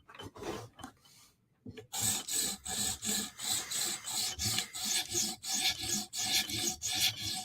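Knife blade drawn repeatedly across a TSProf Kadet sharpening stone, close rhythmic rasping strokes in a steady series after a brief pause, each pass a short gritty scrape with no talking.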